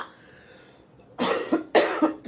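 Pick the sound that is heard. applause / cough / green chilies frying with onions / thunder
cough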